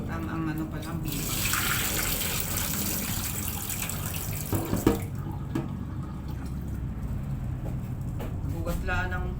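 Rice being washed under a running kitchen tap, with a steady broadband rush of water and splashing throughout, a brief louder splash near the middle, and talk heard faintly beneath the flow.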